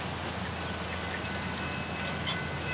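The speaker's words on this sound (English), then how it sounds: "The rain is falling a little bit harder." Steady rain pours onto a front porch on a June afternoon, a dense, even hiss of drops that stays constant throughout with a few brighter splashes, and no voices.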